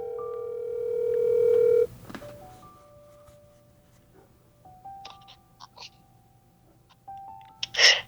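A phone call being placed: a steady dial tone, then a string of short keypad tones as the number is dialed, followed by a few faint clicks and a burst of handling noise near the end.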